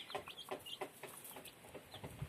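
Soft, repeated clucking from Lohmann Brown hens mixed with high cheeping from chicks, close by and continuous over a faint background hiss.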